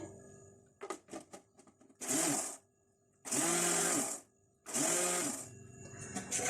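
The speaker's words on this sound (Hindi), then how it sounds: "यहाँ ब्लेंडर के अंदर ये सारी प्याज डाल देंगे" A kitchen blender grinds fried golden onions with yogurt into a paste, running in three loud whirring bursts of about a second each, separated by short pauses and preceded by light clattering handling noises.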